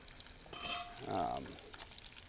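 Olive-stuffed sausage balls frying in a restaurant kitchen give a steady background sizzle, with a brief louder pouring or splashing swell in the middle.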